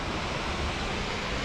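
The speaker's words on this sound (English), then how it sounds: "A little waterfall action." A steady, even rush of falling water, like a small waterfall close by, with no pauses and no voices.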